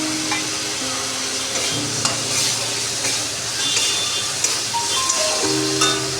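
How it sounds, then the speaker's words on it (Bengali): Spice paste frying and being stirred with potatoes, salt and turmeric in a pan, a steady close sizzle with scraping spatula strokes throughout, no talking. "আর ভালো করে মশলাটাকে কষিয়ে নেব"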